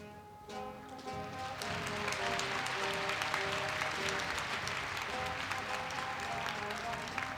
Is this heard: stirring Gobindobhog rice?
no